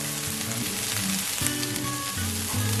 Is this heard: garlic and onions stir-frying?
yes